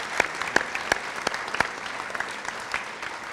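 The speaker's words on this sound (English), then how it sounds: "let's give them a round of applause for helping" A middle school band concert audience applauds student helpers, a moderate, fairly distant patter of clapping with distinct individual claps popping out above the steady background.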